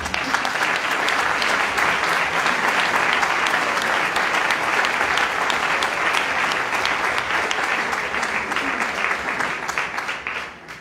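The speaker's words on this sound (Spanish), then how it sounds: "Un aplauso." A studio audience breaks into loud, steady applause, a thick wash of many hands clapping close and continuous, tapering off slightly at the very end.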